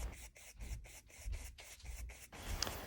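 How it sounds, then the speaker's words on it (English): A dry paintbrush gently scrubbing acrylic paint onto a dried canvas gives a series of soft, rhythmic rubbing strokes, about eight in quick succession, close and quiet, with no talk. "This is a dry brush technique. I've already dried the painting and I'm just gently scrubbing the yellow and the brighter colors in the background."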